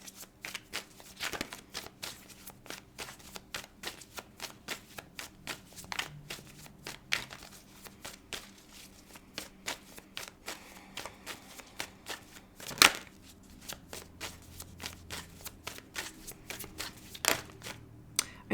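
A tarot card deck is shuffled by hand in a quiet room, giving repeated soft riffling flicks and crisp snaps at an uneven pace, with one sharper crackle partway through.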